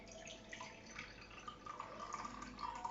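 Warm water runs and drips into a jug while pizza dough is being made at home, a close, steady trickle with small splashes and no talking.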